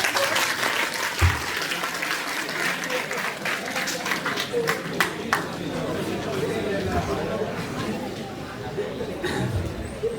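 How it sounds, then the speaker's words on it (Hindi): Audience applause at a pharmacovigilance week celebration, sustained crowd clapping with individual sharp claps standing out and murmured voices mixed in. "अरे इसमें ताली भी बजानी होती है।"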